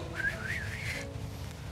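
A man whistles a short wavering melodic phrase alone for about a second, imitating a cyclist passing uphill, over a low steady room hum.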